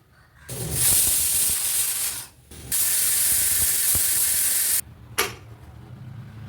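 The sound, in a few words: pressure cooker whistle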